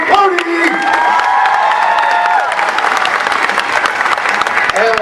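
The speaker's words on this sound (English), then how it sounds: "Make some noise for Cody" A crowd at a fair martial arts demonstration claps and cheers loudly, with whoops and shouts layered over continuous applause that fades slightly toward the end.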